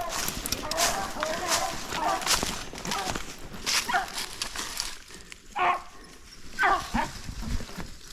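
Beagles barking on a rabbit hunt in Pennsylvania woods, a few scattered distant barks and yelps over outdoor rustling and movement.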